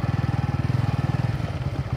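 Bajaj Pulsar N150 motorcycle being ridden: a steady, close single-cylinder engine thrum with a fast even pulsing beat that holds for the full couple of seconds.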